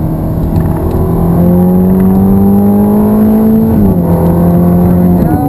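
A Ferrari F430 accelerates hard around Hallett Motor Racing Circuit. The loud engine note rises steadily, dips briefly at a gear shift, then climbs again and shifts once more, heard from close up.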